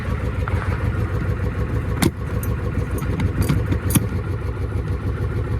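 A Ford F-350 diesel engine that sat for 19 years runs in a steady, loud, low rumble close by, with a few brief sharp clicks or knocks over the top and no talking.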